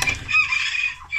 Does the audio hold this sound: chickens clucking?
yes